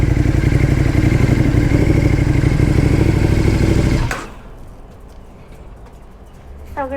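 A motorcycle idles close at a McDonald's drive-thru with a steady, loud, rapid chugging that cuts off suddenly partway through, leaving quiet ambience with faint bird chirps.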